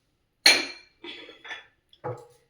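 Washed dishes being put back in place in a home kitchen, with four separate clinks and clatters of metal and glass, close and clear, against silence.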